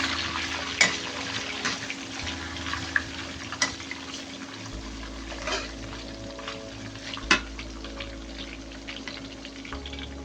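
Ginger and then onion frying in a pan for Indian-style white beehoon noodles, a low steady sizzle with occasional sharp clinks and stirring knocks, close and moderately quiet, no talking.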